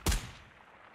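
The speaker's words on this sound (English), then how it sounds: "we're getting shot at" A single sharp gunshot crack in the tactical shooter Ground Branch, close and loud, followed by a short fading echo with no talk.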